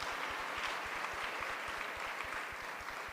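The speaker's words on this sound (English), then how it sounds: "Can you give the Free State a big round of applause?" An audience gives a round of applause at a G20 event in Free State: dense, steady clapping from a crowd that carries on throughout at moderate distance.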